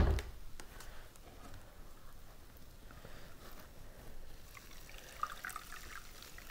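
Liquid pours into a mesh strainer bag, a faint steady trickling and pattering that runs continuously at close range, no voices.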